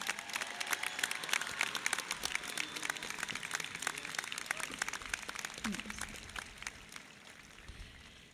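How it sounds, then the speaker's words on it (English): A crowd applauds at a high school commencement ceremony, producing dense, sustained clapping that holds steady for several seconds with faint voices mixed in. "Please give them a round of applause."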